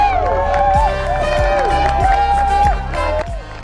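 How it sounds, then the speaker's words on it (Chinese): A group of people outdoors at sunset in a national park cheers and calls out together. The loud, close voices overlap and rise and fall over a few seconds before easing off toward the end. "为日落欢呼"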